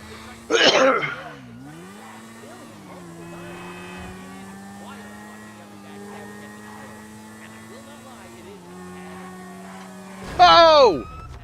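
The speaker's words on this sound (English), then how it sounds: "Got my motorcycle, I'm gone." Motorcycle engine in a video game holds a steady, buzzing drone that rises and falls as it drives off, with loud vocal bursts at the start and end.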